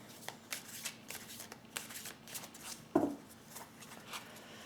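Tarot cards being shuffled and drawn, with soft, quiet riffling and flicks of card stock and a sharper slap of a card near the end.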